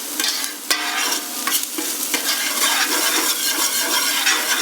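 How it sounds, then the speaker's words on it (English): Ginger, garlic and onions fry in a pot while being stirred, giving a steady close sizzle with scraping spoon strokes running throughout, no voices. "Now give this a good stir for a few minutes. Just make sure that the ginger, garlic and the onions"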